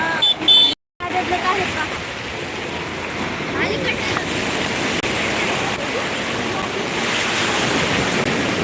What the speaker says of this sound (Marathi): ह्या लाटा किती उंच आहेत पहा